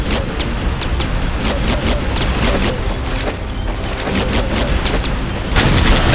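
Dense gunfire and explosive booms from the Terminator Genisys Guardian video game crack out in rapid, loud repeated bursts that continue throughout.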